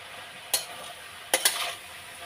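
Cauliflower stalk curry is stirred in a pan over a soft, steady sizzle, with three quick scraping strokes of the spoon, one alone and then two close together.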